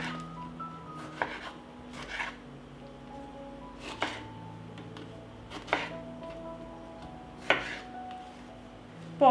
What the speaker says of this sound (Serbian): iseckaću 4 paprike na krupnije komade. Tako ću iseći i 4 paradajza.